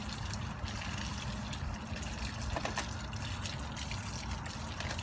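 Water trickles and splashes steadily as Flourite aquarium substrate is stirred and rinsed through a mesh-bottomed container, a continuous close wash of liquid with no talking.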